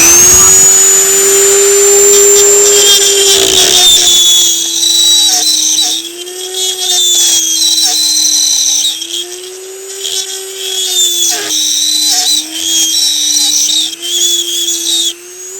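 A Dremel rotary tool with a grinding bit runs continuously up close, a loud steady high-pitched whine that wavers slightly in pitch as the bit bites into the part.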